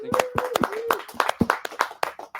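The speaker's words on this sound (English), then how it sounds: "Round of applause for Sound Union." Scattered hand claps ring out in an uneven rhythm at a talk, a few people clapping close by while a voice speaks over them.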